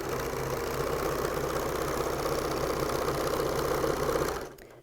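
A sewing machine stitches binding onto a T-shirt quilt with a continuous fast, buzzing motor hum that runs for several seconds and then stops abruptly.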